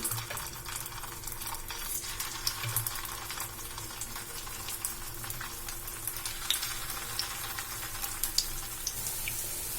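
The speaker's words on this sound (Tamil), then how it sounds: "நம்ம எண்ணெயில் போட்டு ஃப்ரை பண்ணிக்கலாம்" Flattened balls of leftover idli, shaped like vada, fry in oil with a steady soft bubbling sizzle and light crackle, faint and even throughout with a low hum underneath.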